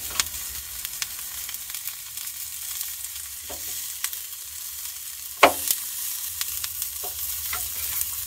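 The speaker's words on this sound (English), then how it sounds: "Got a little bit of garlic going there." Garlic fries in oil in a pan at a campsite, giving a steady soft sizzle with a few sharp clinks from the pan or utensil.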